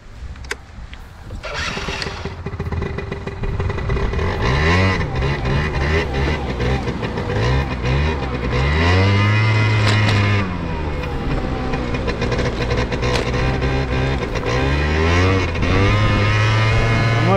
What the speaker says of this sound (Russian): Мопед сумасшедший.